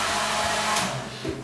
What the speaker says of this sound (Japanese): ドライヤーチェック、これ定番ですからね